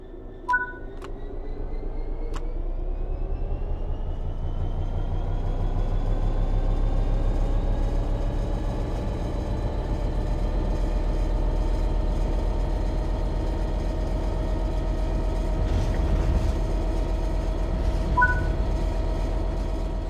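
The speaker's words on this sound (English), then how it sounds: "Apply some throttle to get the train moving" A train in Train Sim World 3 pulls away from a stop, its drive tone climbing steadily in pitch over about twenty seconds beneath a low rumble, with a short two-tone chime near the start and again toward the end.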